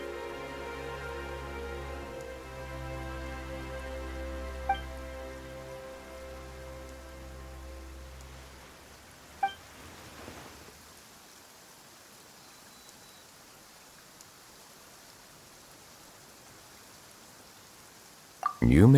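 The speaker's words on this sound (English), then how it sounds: "Why is it raining all of a sudden?" Steady rain in Genshin Impact patters on a surface, a soft continuous hiss, while a low droning tone fades out partway through and a few clicks punctuate it.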